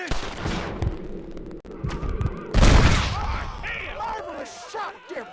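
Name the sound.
gunshot in the video game Red Dead Redemption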